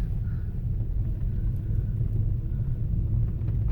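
Low steady rumble from inside a car creeping slowly over a snowy, icy road in the hills, continuous and even with no talk.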